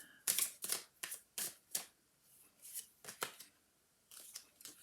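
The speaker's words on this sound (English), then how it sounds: "I am shuffling these cards, honest" A deck of playing cards being shuffled in a quiet room, heard as a series of short, crisp riffling bursts with brief pauses between them, close and fairly soft, with no one talking.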